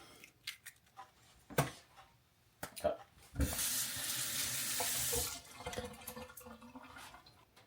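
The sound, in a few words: washing hands under a running tap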